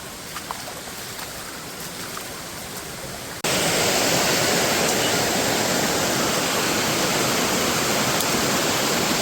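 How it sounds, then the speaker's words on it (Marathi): Navlai waterfall in Guhagar gives a constant roaring rush of falling water, close and loud, swelling suddenly partway through and holding steady without pause. "माझ्यासमोरच वॉटरफॉल आहे तुम्ही बघू शकता खाली देखील पाणी आहे"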